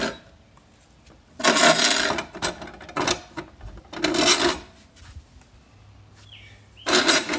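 A file rasps through holes being widened to take a 3/8 rod for a Sun Joe 24V-CRLM15 roller mod, in three loud bursts of rapid back-and-forth strokes separated by quiet pauses.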